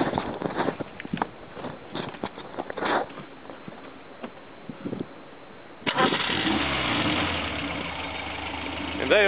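Subaru 1800 engine turning over and catching after its spark plug leads are reconnected: irregular clatter and bursts, then from about six seconds a steady, close idle running on all cylinders.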